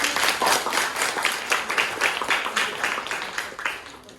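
Steady applause for a student group after a classroom presentation, many hands clapping together in an even rhythmic pattern, moderately close and without talk.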